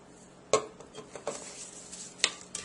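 Spoon stirring tomatoes and dried basil in a bowl for bruschetta, giving a few separate scraping clinks at a moderate, uneven pace, fairly close and quiet, with no talking.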